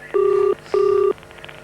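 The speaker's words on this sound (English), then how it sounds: "Remember, the number to dial is Brisbane 11659." Two steady paired-tone telephone dialing beeps, each about 0.4 seconds long, sound clearly and close, separated by a short pause while a phone number is dialed for a 1983 Brisbane television phone poll.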